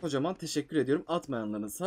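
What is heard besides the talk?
No everyday noises stand out.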